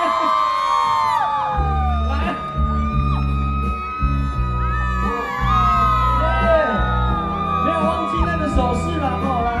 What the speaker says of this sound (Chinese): 掌声加尖叫声